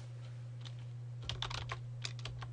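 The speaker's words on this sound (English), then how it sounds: "I'm typing a comma after his last name" Keys clatter on a computer keyboard during data entry, a sparse tap or two, then a quick burst of typing and a few scattered keystrokes over a steady electrical hum.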